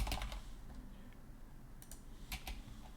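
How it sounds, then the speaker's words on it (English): Fingers type on a computer keyboard, with quick bursts of clicking keystrokes at the start and again later, separated by a brief pause. The keystrokes are faint against a quiet room, with no talking. "And let's type this out."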